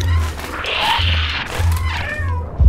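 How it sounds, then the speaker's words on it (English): A cat in the video game Stray meows several times in close, clear succession over a low steady game hum. "Meow with him."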